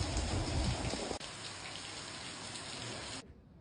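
Steady, hissing rain falls during a late-August thunderstorm in Trieste, heard from a sheltered spot. The sound is dense and continuous, heavier at first, then briefly fades at the very end.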